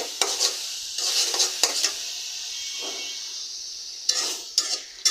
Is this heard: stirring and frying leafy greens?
yes